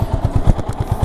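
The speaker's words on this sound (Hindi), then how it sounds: "तो देख सकते हैं बाइक पूरी सीधी चल रही है" Rhythmic low engine pulses from a second-hand Yamaha R15 motorcycle being ridden, a steady even thump repeating about ten times a second, fairly close and without speech.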